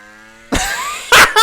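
A 2025 Ducati Panigale V4S superbike and a 925-horsepower Audi pull away hard in first gear from 40 km/h, a loud engine roar rising in pitch, followed by two short bursts of higher revving.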